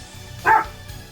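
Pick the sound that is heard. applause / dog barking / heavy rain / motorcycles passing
dog barking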